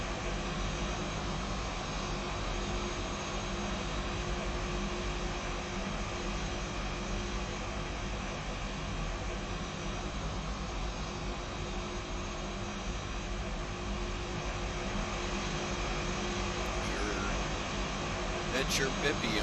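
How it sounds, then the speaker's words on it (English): Airbus A320 jet engines at TOGA takeoff thrust in a flight simulator game, a loud, steady, unbroken roar with a broadband hiss and low rumble that holds constant from start to finish. "we're going to be doing toga takeoff here"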